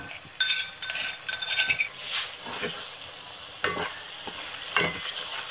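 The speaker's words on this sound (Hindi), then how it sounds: "ये देखिए प्याज हमारे फ्राई कर रहे हैं इसे।" Onions sizzle in a pan as a spatula scrapes and clinks against the metal in irregular strokes, the frying hiss running steadily beneath.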